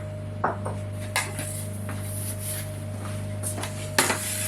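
A small dish is taken out and set down during kitchen food prep, giving a few light clinks and knocks that stand out over a steady low hum.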